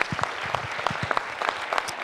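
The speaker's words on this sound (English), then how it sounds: "let's give Ken a round of applause for all that he" Audience applause at a Chamber of Commerce candidate forum in Brooks-Medicine Hat, a steady patter of many hands clapping at moderate volume throughout, with no talk over it.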